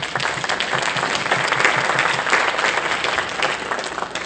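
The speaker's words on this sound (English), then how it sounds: "Give him one more hand clap." A church congregation at Sunday morning worship claps their hands, a loud, close, sustained burst of applause that holds steady throughout with a slight crowd murmur underneath.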